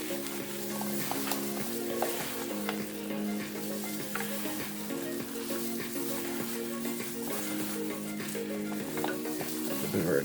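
Jerk turkey masala stirred in a hot pot, a steady loud sizzle and frying crackle with a spoon scraping through it, continuous and close, with a low hum underneath.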